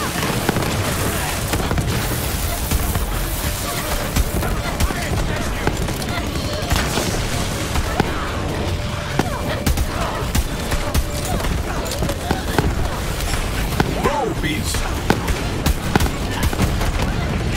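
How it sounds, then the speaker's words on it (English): Loud booming blasts erupt repeatedly in a chaotic scene, dense bursts and rumbles layered over a constant roar with what sound like gunfire-like cracks mixed in. "Explosion."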